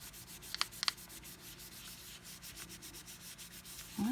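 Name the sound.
burnishing polymer clay pendant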